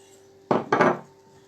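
Flour being stirred into a thick flan batter in a bowl, two short bursts of scraping and clinking utensil strokes, close and fairly loud, with quiet between.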